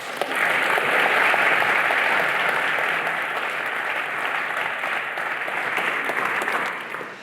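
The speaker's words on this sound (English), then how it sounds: "So please welcome Thomas and give him a big round of applause." A theatre audience breaks into sustained, dense applause for an arriving speaker, loud and steady for several seconds before easing off slightly toward the end, with no talking over it.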